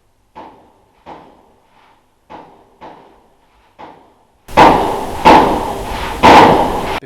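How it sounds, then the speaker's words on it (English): Fireworks go off in a back garden: a run of five dull, evenly spaced pops, quiet and a little distant, followed by three much louder, closer bangs with a crackling tail. "Let's just start popping fireworks off on a Sunday night."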